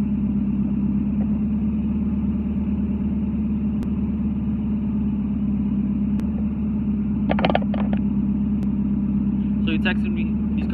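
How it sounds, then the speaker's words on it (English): A loud car engine idles steadily in a low, constant rumble throughout, with brief bursts of nearby talk partway through and near the end. "Excuse my loud car."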